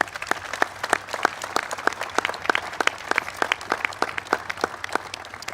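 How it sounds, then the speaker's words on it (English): An audience at an event on cleaner, more efficient vehicles applauds with distinct, fairly sparse claps from a modest crowd in a quiet, even rhythm. "Please give them a big round of applause."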